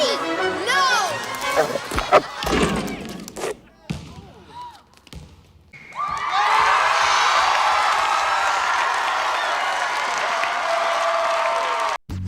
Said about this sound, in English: He shoots a basketball, and the crowd goes fucking wild!